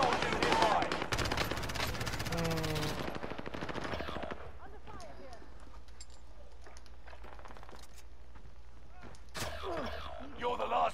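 Dense machine-gun bursts and rapid gunfire from a Warzone match on Rebirth Island crack loudly for the first few seconds, then ease to sporadic distant shots, with a short burst returning near the end and game voice callouts in between.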